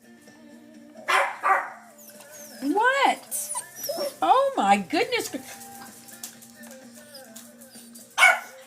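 Indoor dogs yip, whimper and bark in short bursts and rising whines, close and fairly loud, while someone talks over and between the sounds.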